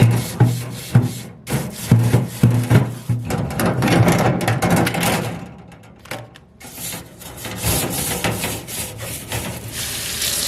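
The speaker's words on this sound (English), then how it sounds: "just to give it a nice clean, I'm just gonna use the brush" Brush scrubbing and rubbing across a kitchen sink area while cleaning away dust, with steady close bristle strokes, some knocks and scraping in uneven bursts and pauses, no talking.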